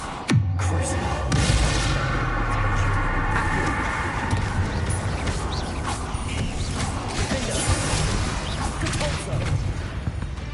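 A Bombarda blasting spell bursts in Hogwarts Legacy inside a tomb, a sharp loud bang near the start that trails into a rumbling, crackling wash of debris and game ambience for several seconds.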